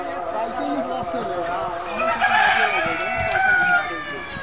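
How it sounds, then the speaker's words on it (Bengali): Layer chickens on a farm clucking with a rooster crowing, a busy cluster of close fowl calls over steady background noise. "এই যে আমাদের লেয়ার মুরগি মাশাল্লাহ"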